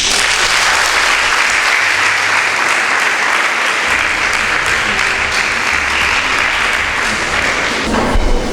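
A loud, dense wave of clapping comes from a debate audience applauding the speakers after their arguments, sustained and close, with faint low rumbles beneath and a brief fall near the end.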